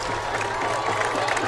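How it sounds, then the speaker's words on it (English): High school football crowd, River View against West Muskingum, roars and applauds after a made kick, a dense, loud wall of cheering and clapping from a stadium crowd, with voices mixed in. "And the crowd is going crazy"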